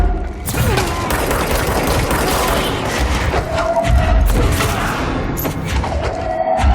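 Gunfire and booming impacts in the video game Control, a continuous dense clatter of shots and thuds at high volume throughout, with no voices over it.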